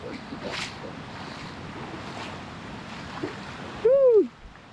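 Water at Bangara Kusuma Falls near Gerusoppa makes a steady, broad rushing roar throughout, with a brief tonal whistle or voice rising above it near the end.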